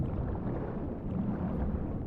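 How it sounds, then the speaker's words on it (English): A character swims through clear water in Dishonored 2, a dense, low, continuous sloshing wash of water with no voices. "I swim for freedom!"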